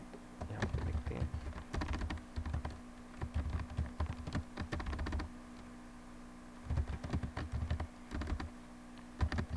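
A computer keyboard is typed on in bursts of rapid, close clicking, with pauses between runs over a low steady hum, and no one speaks.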